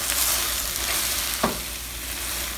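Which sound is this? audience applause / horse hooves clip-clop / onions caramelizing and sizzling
onions caramelizing and sizzling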